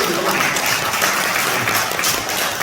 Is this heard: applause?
yes